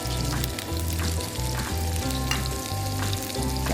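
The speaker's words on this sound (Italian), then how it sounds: "Una volta finito di rosolare il pesce" Pieces of bonito fish brown in a pan with a constant close frying sizzle, accompanied by a soft tonal hum and no voices.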